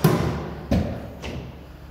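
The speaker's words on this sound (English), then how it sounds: "I'll shut the bonnet for you, Steve." A car bonnet on an Aston Martin DBX slammed shut with a heavy thud, followed by a smaller second thump and a faint third knock as the panel settles.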